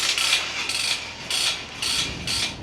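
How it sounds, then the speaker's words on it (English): The retractable 50-foot hose reel on a pressure washer gives a series of close, loud ratcheting clicks. They come in about four repeated bursts with short pauses between them. "It's got a 50-foot retractable hose on it"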